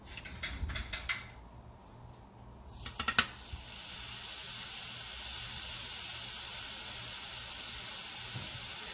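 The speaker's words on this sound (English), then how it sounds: "Alright, now we're going to cook the patty." A beef burger patty frying in a pan on a stove top at medium-high heat, for an Eggers Can't Be Cheesers burger. Brief clatter comes first, then a steady, close hissing sizzle that holds alone to the end.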